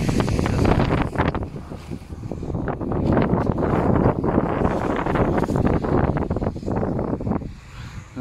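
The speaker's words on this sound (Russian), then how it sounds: "Ветрюган поднялся конкретный." Strong gusting wind buffets the microphone over an open field being fertilized for wheat sowing, with a loud, continuous roar and rumble that surges and eases throughout, with no voices.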